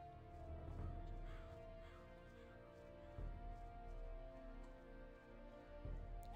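Crow cawing in the video game Gothic 2, a few loud repeated caws over a quiet ambient game background, with no speech.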